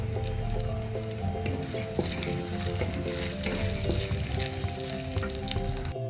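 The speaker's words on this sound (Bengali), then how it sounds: "এটাকে আমি ভালো মতো পেঁয়াজের সাথে ভেজে নিচ্ছি" Pangas fish paste frying with chopped onions and green chillies in a pan, a continuous close sizzle with occasional stirring scrapes over a steady low hum.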